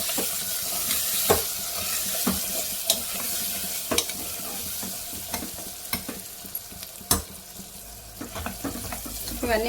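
Potato, carrot and green pea pieces frying in a pan for a mixed vegetable curry, a steady sizzle punctuated by sharp scraping stirs of a spatula against the pan at irregular intervals.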